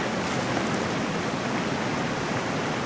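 Steady rushing waterfall ambience from the survival video game Green Hell, a dense, continuous broadband roar of falling water held at an even level throughout, with no voices over it.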